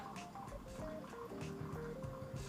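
Hot water poured slowly into a Chemex for pour-over coffee, a quiet, close trickle with gurgling, rising-pitch filling tones and faint drips.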